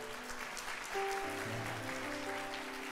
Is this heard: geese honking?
no